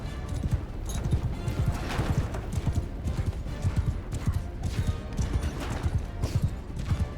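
Horse hooves clip-clop in a steady galloping rhythm during a Mount & Blade II Bannerlord battle, the repeated thuds fairly loud and continuous under faint background battle noise.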